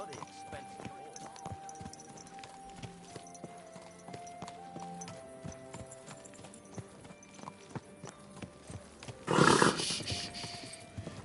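Horse hooves clip-clopping at a steady walking pace in Kingdom Come: Deliverance 2, a faint rhythmic patter with a brief louder snort or burst near the end, and people talking over it.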